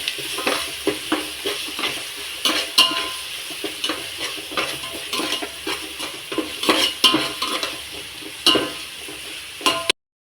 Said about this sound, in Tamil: பூண்டு விழுது போட்டுக்கலாம். இதை நல்லா வதக்கிக்கலாம்.